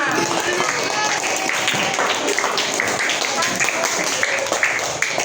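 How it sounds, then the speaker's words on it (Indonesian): Classroom applause for group 5 in a primary school class, a steady dense patter of many small hands clapping throughout, with children's voices mixed in. "beri tepuk tangan untuk kelompok 5"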